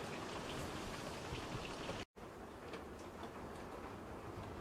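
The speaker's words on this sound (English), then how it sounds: "So we have a thunderstorm going on." Rain falls during a severe thunderstorm at a homestead, heard as a dense, steady roar of rainfall broken by one brief dropout midway, with no thunder standing out.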